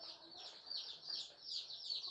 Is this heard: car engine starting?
no